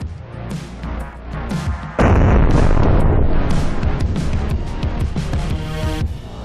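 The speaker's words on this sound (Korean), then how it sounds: "폭발물이 점화되면서 앞에 있는 두꺼운 금고문을 뚫고 뒤에 있는 드럼통까지 단숨에" A shaped-charge explosive blasts through a thick steel safe door and a drum behind it: a sudden, very loud detonation strikes about two seconds in, followed by a long, heavy rumbling roar that slowly fades.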